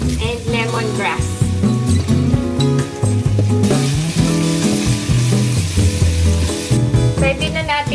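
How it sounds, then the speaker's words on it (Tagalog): Onion, garlic, ginger and lemongrass sizzle steadily in a hot pan, a continuous close frying hiss with occasional clinks of stirring. "Magigisa na tayo ng onion, garlic, ginger, and lemongrass."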